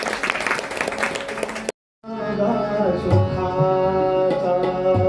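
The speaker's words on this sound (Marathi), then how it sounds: "तर जोरदार टाळ्या वाजवून त्यांचं स्वागत करूया." An audience at a music concert in Sawantwadi applauds a singer with a brief burst of dense clapping, followed by a short silence and then sustained instrumental music.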